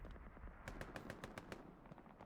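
Artillery strikes and explosions on the Stalingrad map in Hell Let Loose, heard as a rapid string of sharp cracking bursts over a continuous low battlefield rumble, fairly distant and without talk.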